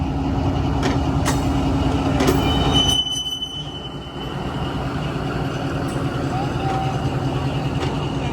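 A loud train rumbling close by at a station, metal wheels squealing with high tones, and a dip partway through before the rolling continues.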